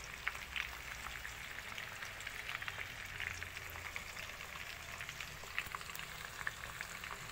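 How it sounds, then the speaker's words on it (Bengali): Pitha frying in oil, a steady soft crackle and sizzle with scattered faint pops, fairly quiet and heard on its own without talk. "এইটা এখনো ভাজা চলছে।"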